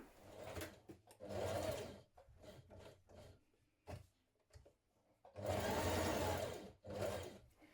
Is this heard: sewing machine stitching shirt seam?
yes